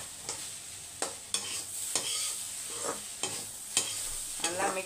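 Spoon scraping and stirring grated coconut into sambar in a pan, a series of irregular clinks and scrapes over a soft continuous sizzle, close and fairly quiet with no talking.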